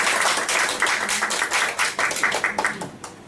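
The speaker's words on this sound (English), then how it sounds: "Give her a big round of applause." Audience applause at a Toastmasters meeting, a dense, steady clapping from a roomful of people that stays loud for about three seconds before thinning out into scattered claps.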